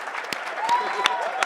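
A lecture audience at NYU Game Center claps and cheers in a steady burst, with several sharper claps standing out and voices mixed into the applause.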